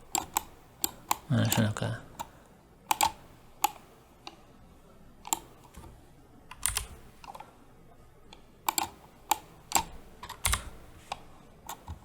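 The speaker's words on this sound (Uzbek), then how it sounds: "A tugmasi bosiladi" Computer keyboard keys are pressed in scattered single clicks and short bursts, close and crisp, with a brief spoken phrase early on.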